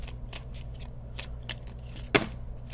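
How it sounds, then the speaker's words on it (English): An oracle card deck is shuffled by hand, giving repeated quick papery riffles and flicks with one sharper snap near the end, close and clear with no talk. "we're going to make sure that these are good and shuffled"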